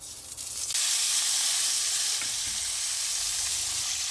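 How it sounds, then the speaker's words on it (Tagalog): Onions and tomatoes sizzle in hot oil in a pan, a steady, close, loud frying hiss that swells after the first moment and holds without talk. "mainit na yung mantika. Lunod na natin yung ating sibuyas at kamatis."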